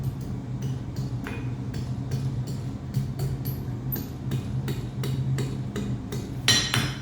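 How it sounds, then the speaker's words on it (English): A blacksmith hammers thin metal into a loop for a rune pendant, sharp ringing strikes landing in a steady, evenly spaced rhythm, close and clear over a low forge roar. "Forging a loop"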